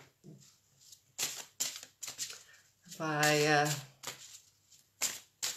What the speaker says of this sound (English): Even while I'm shuffling the cards, the angel cards